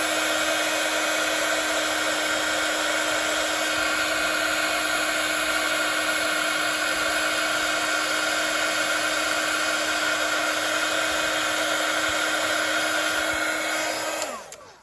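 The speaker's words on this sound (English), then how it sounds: "so then we'll heat emboss that" A heat gun blows hot air to heat-emboss powder on a handmade Christmas card, a loud, steady whirring drone with a high whine that runs unbroken for about fourteen seconds before switching off and winding down at the end.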